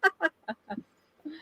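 A noisy crow-sized blue, white and black bird gives a run of harsh, nasal squawks close by, four quick calls then a pause and a longer final call, loud against a quiet background.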